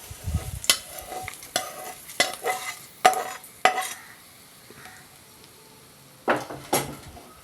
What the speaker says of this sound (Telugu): ఈ పోపుని పచ్చడిలో వేసేద్దాం